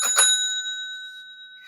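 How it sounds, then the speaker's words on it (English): A bell is struck once, giving a bright metallic ring that sustains and slowly fades, loud and close, with no talk over it. "Getting some money out of that bell."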